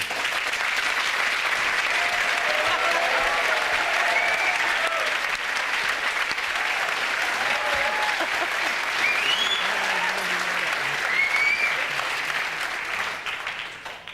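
Studio audience applause on a comedy sports panel show, a steady, dense wash of clapping with cheering voices mixed in, holding loud for most of its length before tapering off.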